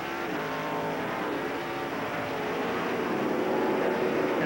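Pack of NASCAR Featherlite Southwest Tour race cars accelerating on a restart at Sears Point Raceway in the 1995 Budweiser 200, a loud, sustained roar of several engines blending together without a break.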